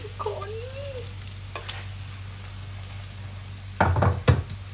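Egg for a Thai omelette (khai jiao) frying in oil, a steady soft sizzle throughout with a hum underneath, then a few louder scraping or clattering bursts near the end.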